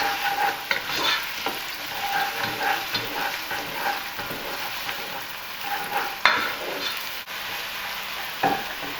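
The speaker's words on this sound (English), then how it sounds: "we're just going to stir them on a medium fire for about 5 minutes" Chilli con carne ingredients sizzle in a pan over a medium fire while a spoon stirs them, with a continuous close frying hiss and repeated scraping strokes, plus a couple of sharper knocks.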